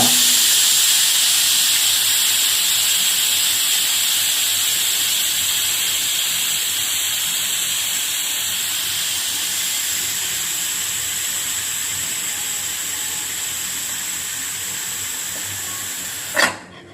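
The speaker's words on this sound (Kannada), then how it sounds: "ಈಗ ವಿಸಿಲ್ ಎತ್ಬಿಟ್ಟು ಟೇಸ್ಟ್ ನೋಡೋ ಸಮಯ." Steam hisses steadily from a pressure cooker as its whistle is lifted after cooking green soya pulao, a loud continuous rush that fades gradually over about sixteen seconds before a sharp knock at the end.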